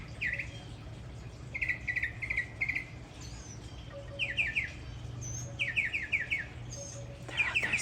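Small birds at backyard feeders chirp in short bursts of rapid high twittering, repeated every second or two, fairly faint over a steady low background hum.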